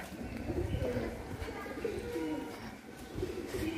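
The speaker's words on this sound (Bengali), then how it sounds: "এখানে একটা পায়রা রাখা আছে, এই যে পায়রা।" A pigeon coos softly in a garden enclosure, low repeated calls under faint background murmur and outdoor noise.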